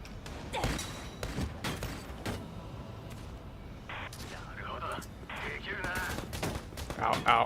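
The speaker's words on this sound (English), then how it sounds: "Please stop shooting at me." Gunfire in the Valkyria Chronicles 4 video game, bursts of rapid shots and heavy thumps in repeated clusters, loud and close, with game voices and effects mixed in.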